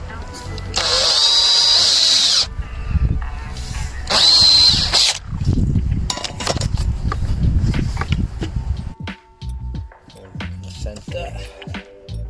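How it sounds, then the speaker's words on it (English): A power drill bores a hole into an irrigation pipe manifold, with two short high-pitched whining bursts followed by handling, rustling and clunking close by. "So I need to drill a hole in it to go into that."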